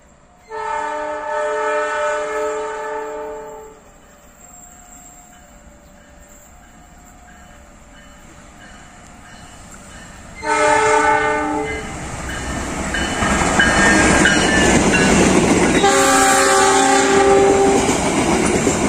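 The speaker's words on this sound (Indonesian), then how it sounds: "Sesaat lagi kereta api dari arah barat akan segera melintas." A loud train horn blares twice, then the Argo Wilis express train rumbles past with rhythmic clattering wheels, the horn sounding again as it passes close by.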